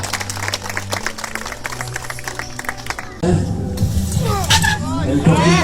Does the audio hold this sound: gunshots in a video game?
no